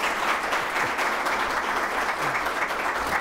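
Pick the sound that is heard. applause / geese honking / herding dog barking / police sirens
applause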